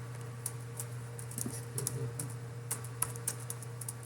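Code being typed on a computer keyboard, scattered crisp key clicks in short irregular bursts over a low steady hum, close and moderately loud.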